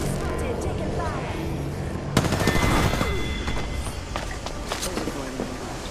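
Gunfire in Apex Legends, a sudden loud burst of rapid shots that starts partway through and is followed by scattered impacts, amid footsteps and game ambience, with voice lines spoken over it.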